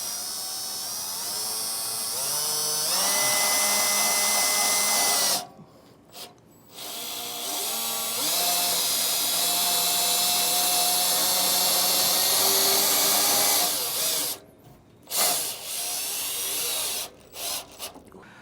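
A power drill drives a screw into the frame of a 2023 Fleetwood RV, whirring in long close bursts that rise in pitch with brief pauses between them and a ratcheting edge near the end.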